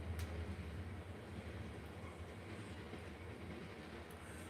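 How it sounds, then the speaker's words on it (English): A passing train rumbles steadily at a faint, distant level, a low continuous roll with a soft clickety-clack texture and no voices. "all right, train. All right, train."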